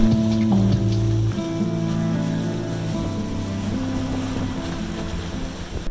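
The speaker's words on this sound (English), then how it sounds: "Now we are fully under sail." A sailboat moving under sail in a decent breeze, with a steady wash of wind and water around the hull and a low continuous hum underneath, no voices.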